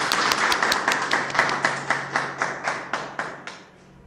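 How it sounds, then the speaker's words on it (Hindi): An audience at a Chauri Chaura commemorative poetry gathering claps to welcome a poet, a close, loud run of distinct rhythmic claps that slows and fades out near the end. "तालियों से उनका स्वागत करें।"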